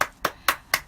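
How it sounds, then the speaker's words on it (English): Four crisp, close hand claps in an even rhythm, each a sharp slap with nothing else around it. "I have to give a clap to the casting director on this one"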